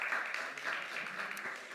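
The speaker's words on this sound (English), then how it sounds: "Give her a round of applause," At a COP28 food systems session in the Nordic Pavilion, the audience applauds an ambassador being introduced, a brief burst of moderate, steady crowd clapping.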